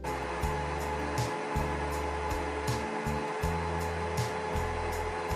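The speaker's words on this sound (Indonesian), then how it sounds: "mixer dengan kecepatan rendah di awal, kemudian lanjutkan dengan kecepatan tinggi sampai gula halusnya ini benar-benar larut ke dalam telurnya" An electric mixer beats eggs with powdered sugar for a cake batter, a loud steady motor whine with the beaters knocking against the bowl in a regular rhythm throughout, with no voices.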